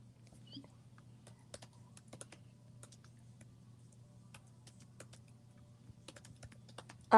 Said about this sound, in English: I'm just typing one more note